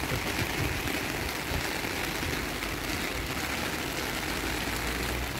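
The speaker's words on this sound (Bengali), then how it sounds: "রাস্তায় পড়তেছে, এদিকে পানি, ভালোই লাগতেছে বৃষ্টির মধ্যে।" Dense, steady hiss of rain falling on a street in Italy, even and unbroken, with a low rumble underneath and no voices.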